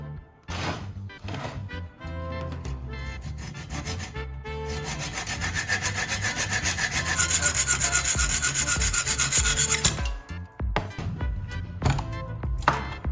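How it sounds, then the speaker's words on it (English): A steel bolt's head is sawn off by hand to keep the threaded shaft, with steady back-and-forth rasping strokes building through the middle and stopping near the end, close and loud, amid some background music. "Now I'll cut off the bolt's head, keeping only the threaded shaft."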